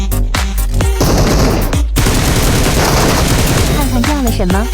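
Rapid bursts of gunfire ring out in a metro escape shooter video game, loud and close, with dense automatic volleys and sharp single shots, followed by brief tonal game effects.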